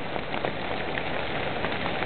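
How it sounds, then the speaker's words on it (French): Dense, steady heavy rain patters hard on a tent on Koh Tao, a continuous hiss of drops with no pauses or voices. "Je sais pas si on entend, mais il pleut grave."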